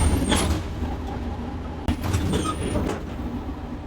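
An Ikarus city bus engine rumbles steadily and loudly from close inside the cab, with a sharp click partway through and no speech.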